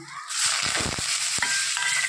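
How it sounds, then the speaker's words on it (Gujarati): Pickle masala and asafoetida hit hot oil to temper sambar, bursting into a loud, close sizzle that holds steady with a few crackles and stirring knocks. "આપણે સંભાર વઘારીએ અને પહેલાં અચાર મસાલો, હિંગ,"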